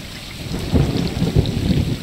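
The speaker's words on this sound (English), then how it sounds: "a rainy night." Rainy night ambience in a stray cat video game, with steady rain and low rumbling thunder swelling in the second half, continuous and fairly close, no talking.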